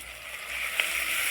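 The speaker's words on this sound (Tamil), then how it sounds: "இப்போ நம்ம வந்து அரைச்சி வச்ச மருதாணியை போட்டு நல்லா வதக்கிக்கலாம்" Ground henna paste sautés in a hot pan, a faint, steady sizzling hiss with one brief small pop, alone and quiet.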